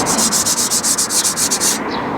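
A hand rubs back and forth over rough, sandpaper-like car paint on a PD TDI project car, about a dozen quick, rhythmic scratchy strokes heard up close, with no talking.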